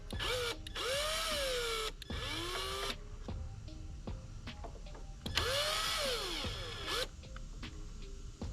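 A power drill whirs on an Indian Scout motorcycle in repeated bursts, spinning up and winding down with rising and falling pitch, close and loud with short pauses between runs.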